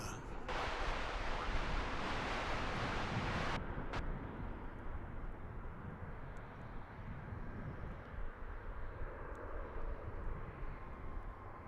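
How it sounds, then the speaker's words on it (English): A jet airliner, American Airlines flight 882 from Tulsa, roars steadily at DFW International Airport, a broad sustained engine rumble that stays loud throughout, with a brighter hiss early on, alone without talk. "This is American flight. Couldn't see it because of the sun. Flight 882 from Tulsa."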